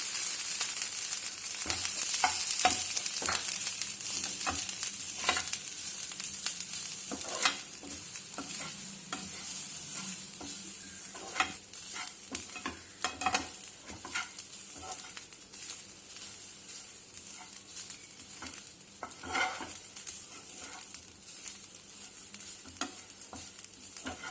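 Grated coconut being stirred and sautéed in a pan, a soft continuous sizzle with repeated scraping strokes of a spoon against the pan, steady and close throughout.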